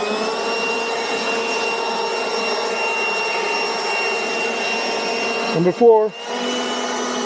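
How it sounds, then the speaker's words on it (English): A 190 mph handheld leaf blower roars steadily at a high speed setting, a loud, constant whine-laden rush of air, briefly broken near the end as a person speaks. "it's gonna be louder, but I can handle it. It's not that bad. I'm going for number 3 now."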